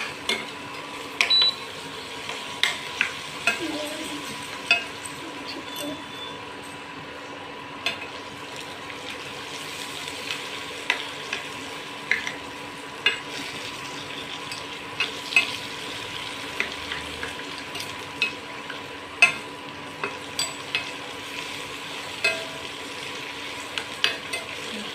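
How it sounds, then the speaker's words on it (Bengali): Food fries in a pan with salt and turmeric while a spoon stirs it, giving a steady soft sizzle broken by frequent light scrapes and clinks of the utensil against the pan. "এবার ভালো করে আমরা নাড়িয়ে নেব"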